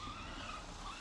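Tires skid and slide from a Mojave vehicle in a video game, a steady broadband engine-and-tire roar lasting about a second at low level with no talk.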